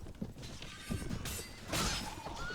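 Horse neighs and whinnies with hoofbeats during a mounted battle in the video game Mount & Blade: Warband, with steady clashing and mechanical clatter throughout.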